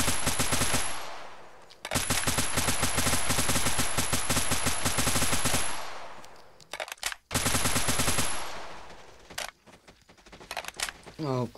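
Rapid automatic gunfire from a survival video game rattles loudly in long sustained bursts, cutting off into short gaps and a few scattered shots near the end.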